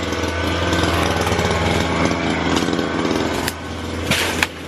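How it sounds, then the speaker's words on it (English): Petrol weed eater (string trimmer) running close by outdoors, a steady buzzing engine drone with a brief dip and a sharp burst near the end. "I'm just gonna finish off doing a bit of weed eating."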